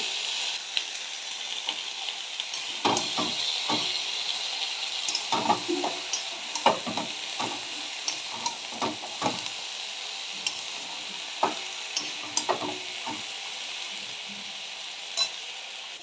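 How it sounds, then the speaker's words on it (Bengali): Malabar spinach goes into a pan of fried small shrimp and vegetables, sizzling steadily while a spatula knocks and scrapes in irregular bursts, close up with no talking. "আমি এবার এর মধ্যে পুঁই শাকটা দিয়ে দেব"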